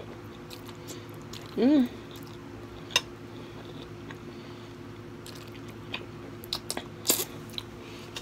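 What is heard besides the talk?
biting and chewing pork and broccoli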